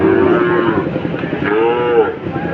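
Deshi and Sahiwal calves moo repeatedly at the Setabganj cattle market in Dinajpur, with drawn-out, fairly loud calls that overlap and rise against a constant background of crowd noise.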